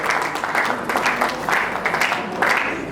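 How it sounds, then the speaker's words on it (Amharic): Wedding guests at an apostolic ceremony applaud during gift-giving, a dense, moderately loud patter of clapping with rhythmic surges that runs for a few seconds. "እሺ አጨብጭቡ"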